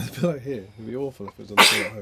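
A single sharp sneeze bursts out near the end, loud and close, set among children and adults chatting at home.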